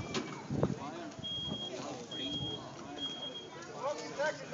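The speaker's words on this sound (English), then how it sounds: "You can hear the smoke detector going off." A smoke detector sounds in short, thin, high electronic beeps, three evenly spaced tones during a fire department sprinkler demonstration at an open house, partly under people talking nearby.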